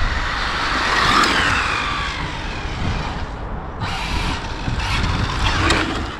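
An Arrma Infraction 6S RC car whines and buzzes as it drives, its motor pitch rising and falling, fading out briefly and then returning in close, loud passes.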